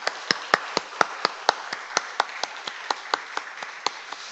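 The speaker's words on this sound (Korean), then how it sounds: "우리 박수 한번 하겠습니다." Congregation clapping along at a church service, a steady series of distinct, evenly spaced hand claps, moderately loud with no talk over them.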